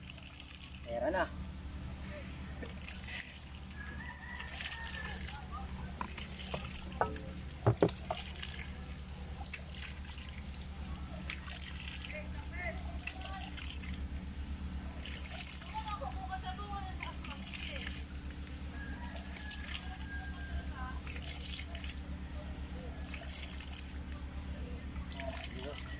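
Water from a newly made hand pump well drips and trickles steadily at close range, with people talking over it throughout and a few sharp knocks from the pump.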